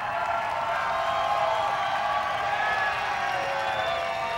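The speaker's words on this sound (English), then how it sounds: "The crowd is going crazy" Crowd cheering at a motocross championship trophy presentation, a steady broad roar of many voices from a distance that holds at the same level throughout.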